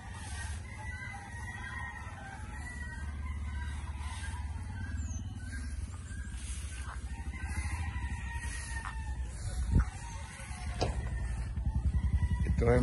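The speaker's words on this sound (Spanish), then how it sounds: "Mira, ese es un gallo ya." Rooster crowing on a rainy farm, heard repeatedly at a moderate distance over steady rain and background noise, with other fowl faintly clucking.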